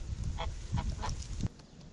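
Domestic geese raised on a small farm give several loud, nasal honks at close range, spaced irregularly over a low background murmur.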